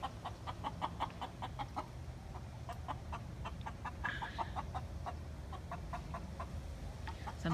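Backyard hens cluck steadily near the coop, a flock of repeated short calls close by, overlapping continuously over an outdoor hum with no talk.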